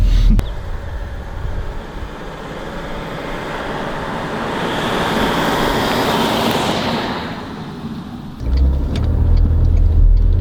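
Volkswagen Phaeton accelerating on a road, a steady broadband engine and tyre roar that builds slightly and swells louder near the end, heard from inside the car with no talk.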